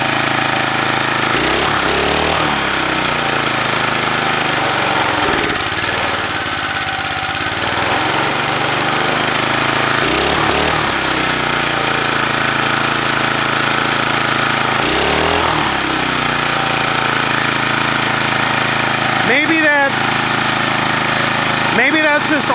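A vintage McLane reel mower engine running while burning oil, a loud continuous close engine drone with rhythmic knocking pulses and brief dips in pitch.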